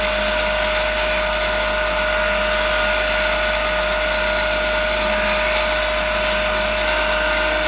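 Lathe spinning an ash maple bowl while a gouge cuts it, a steady loud motor whine and high-pitched tonal hum with a continuous hiss of cutting, unbroken for the whole stretch.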